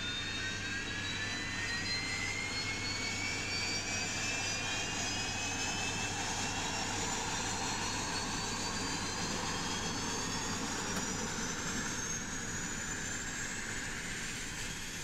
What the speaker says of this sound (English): Both engines are on and good starts after the first fail from my side